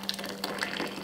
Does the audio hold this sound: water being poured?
yes